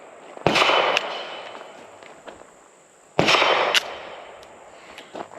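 A SAR USA B6C 9mm pistol fired rapidly outdoors, with two loud, dense bursts of quick sharp shots about three seconds apart, each trailing off into a faint ringing echo, and no talking.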